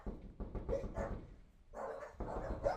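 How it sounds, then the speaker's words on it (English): Several puppies bark and yip in overlapping bursts, somewhat muffled from inside a garage, with a brief lull midway. "That's the loud, obnoxious barking that all the neighbors are complaining about."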